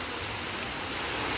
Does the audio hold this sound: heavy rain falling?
yes